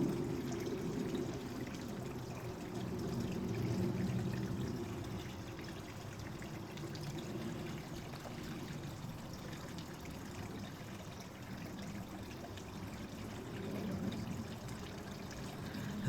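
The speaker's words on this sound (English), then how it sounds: "Think of the power of the waterfall." Water tumbles steadily over a rocky edge into a pool below, a continuous low rushing wash of a waterfall with no voices, holding an even level throughout.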